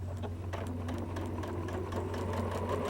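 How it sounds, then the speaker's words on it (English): A sewing machine runs a straight stitch with a twin needle and a pin tuck foot. Its motor hums loud and steady, and the needle chatters evenly all the way through. "we're going to sew with the twin needle"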